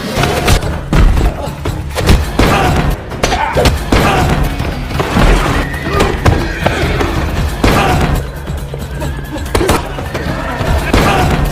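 Horses neighing in a stable during a John Wick: Chapter 3 – Parabellum fight scene, whinnies mixed with heavy thumps and crashes, loud and busy throughout.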